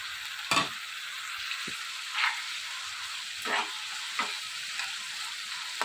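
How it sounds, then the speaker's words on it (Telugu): Tomato pieces fry with softened onions in a pan for an eggplant tomato curry, making a steady close sizzle broken by a few sharp stirring clacks, with no talking. "ఇందులోనే కట్ చేసి పక్కన పెట్టిన టమాటా ముక్కలు కూడా వేసుకోవాలి"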